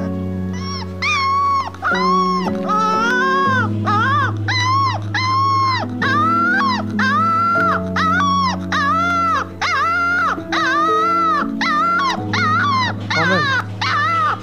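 A dog yelps and whines over and over for about fourteen seconds, high, pitch-bending cries in a steady stream, loud and close, over a constant low hum.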